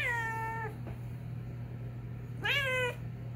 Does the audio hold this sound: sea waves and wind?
no